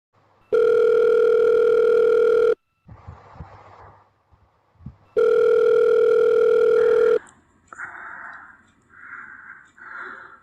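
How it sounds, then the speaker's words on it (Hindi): A telephone ringback tone while placing a call, two long loud steady buzzing tones, each about two seconds, with quiet gaps and faint background sounds between them. "मैं फ़ोन करता हूँ।"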